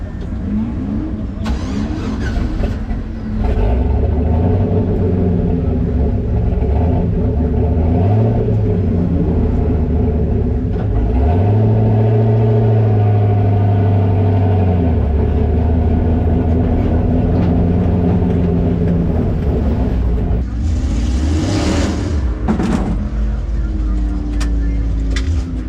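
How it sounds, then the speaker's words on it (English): A damaged car engine rumbles loudly and close while the car is driven back to the pit, with rough idling and several rising revs. A voice speaks briefly near the end. "See if I can drive it back over to the pit at least."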